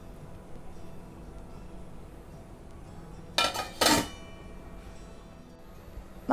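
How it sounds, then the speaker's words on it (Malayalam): A lid clatters twice onto a container of fermenting idli batter, two sharp, close metallic clinks in quick succession against a quiet room background. "ഇനി നമുക്കിത് ഫെർമെൻറ്റ് ചെയ്യാനായിട്ട് അടച്ചു വയ്ക്കാം"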